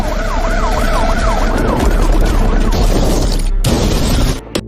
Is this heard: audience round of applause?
no